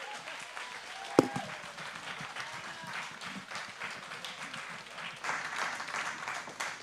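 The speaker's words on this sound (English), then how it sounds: "Please give a round of applause." Audience applause at a live event, a steady wash of clapping from a crowd with one sharp tap near the start, sustained at moderate level throughout.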